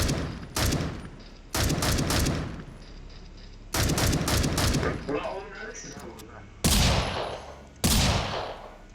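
Gunfire in a shooter video game comes in sharp bursts of rapid automatic shots, several separate volleys spaced by brief pauses and fading tails, loud and close.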